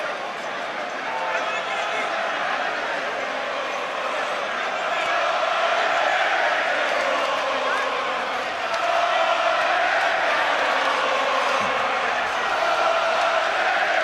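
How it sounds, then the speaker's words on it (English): A boxing arena crowd roaring on its feet during Derek Chisora vs Joe Joyce, a dense, sustained wall of cheering that swells louder in the second half, with a commentator talking over it. "the crowd to their feet and cheering everything that he lands"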